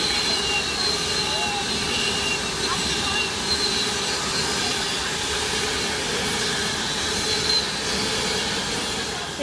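A train passing through the main line at Stafford station, a steady loud rumble and rush of wheels with faint high squeals, continuous and close throughout.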